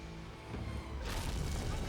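A massive explosion from the Xena: Warrior Princess episode A Friend in Need erupts suddenly after a low rumbling lead-in, then becomes a loud, sustained roaring blast.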